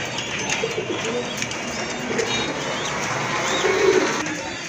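A pair of black Bombay pigeons coos softly at a market, low murmuring calls rising toward the end over a busy background hum.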